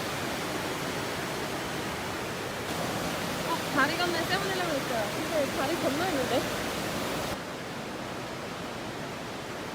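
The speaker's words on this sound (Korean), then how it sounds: "강물에 세찬 물소리가 들렸어요." Rushing river water flows beneath a bridge in the mountain village of Wulai, Taiwan, at night: a steady, broad hiss that runs under people chatting nearby.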